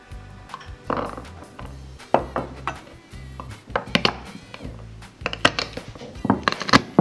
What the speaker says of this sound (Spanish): En una cacerola pondremos la manteca